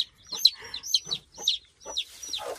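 A hen on a small farm clucks in a short, quiet run of repeated calls, each a brief rising cluck spaced about half a second apart, alone with no talk.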